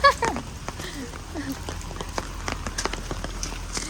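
Rain falls outdoors on plants in a soft, scattered patter of drops, with faint voices and occasional chirps in the background.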